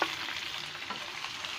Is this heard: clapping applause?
no